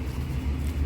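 Cars idling at a driving test centre, a steady low engine rumble running through the brief moment without any voices.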